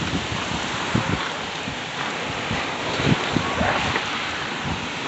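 Strong gusting wind roars steadily through a thunderstorm, a dense broadband rush with rain-like hiss and occasional low thumps and buffets against the microphone, loud and continuous throughout.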